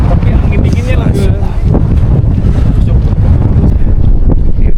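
Cold mountain wind roars across the microphone at Surya Kencana on Mount Gede, a loud, steady gusting rush with no break throughout.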